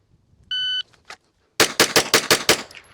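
Pistol bill drill on a range: a shot timer beeps once, then six rapid handgun shots crack out in an even, fast string, loud and close with no talk over them.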